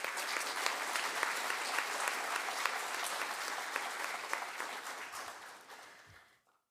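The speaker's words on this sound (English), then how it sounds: "Please join me in giving another warm round of applause to our public safety partners" An audience at a Cupertino State of the City address applauds public safety partners with a warm, sustained wave of clapping that holds evenly, then tapers away and stops.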